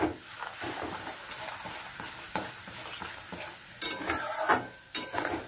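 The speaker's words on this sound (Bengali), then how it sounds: "মশলাটাকে ভালো করে একটু কষাবো।" Spice paste for niramish ol curry stir-fried in a pan: uneven scraping strokes of a spatula against metal over a low sizzle, with a few louder clanks and scrapes near the end, close and without speech.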